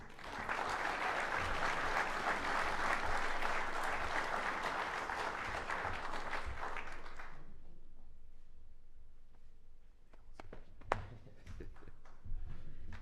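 Hall of Fame audience applauds for an athletic inductee, a dense, steady wash of many hands clapping for about seven seconds before it cuts off, leaving a quiet room with a few scattered claps and small knocks.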